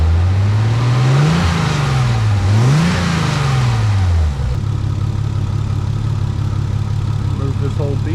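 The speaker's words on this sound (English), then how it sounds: "Let's give it a couple revs." A Nissan 300ZX slicktop engine revs up and down twice, close and loud, then settles back to a steady idle with a low drone.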